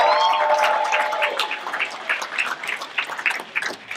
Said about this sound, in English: If you give me a hand clap, please.